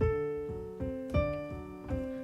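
Slow, rolling piano arpeggios from Beethoven's Moonlight Sonata adagio, with sustained low notes, a gentle repeating pattern of broken chords played softly and evenly.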